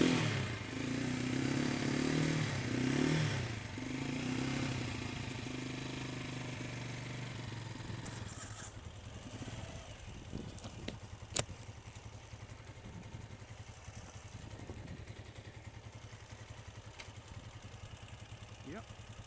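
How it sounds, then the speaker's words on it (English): A Janus Halcyon motorcycle engine rumbles steadily while riding, louder and rougher at first, then settling into an even drone with occasional clatter. "Some people wanted to listen to the engine,"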